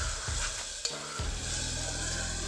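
Ground masala paste frying in oil in a pan for pulao, a continuous close sizzle with brief stirring scrapes and a small clink partway through, no voices.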